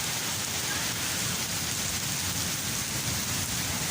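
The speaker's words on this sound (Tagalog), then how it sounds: "Super duper lakas po ng ulan." Heavy rain pours down steadily around Marina Bay Sands in Singapore, a dense, even hiss that stays loud and unbroken with no voices.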